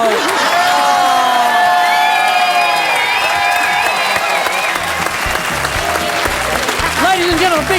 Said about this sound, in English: Ladies and gentlemen, a big round of applause for everyone.